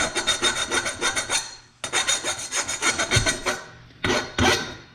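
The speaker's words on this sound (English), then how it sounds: "just using this file to get any of the burrs off, especially here on the inside." A metal file rasps burrs off the inside of a cut fuel return line tube on a 1967 Ford Mustang. Quick, rhythmic scraping strokes run in close bursts with brief pauses between them.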